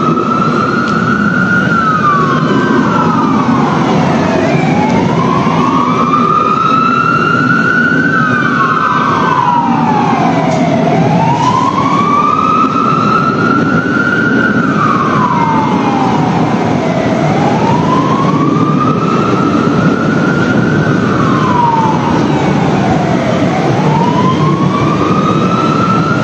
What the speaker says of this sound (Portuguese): Dá para ouvir até as sirenes aí